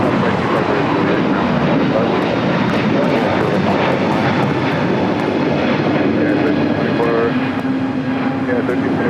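A jet airliner at Los Angeles International Airport gives a loud, steady broadband roar that fills the whole stretch, with radio voices talking over it.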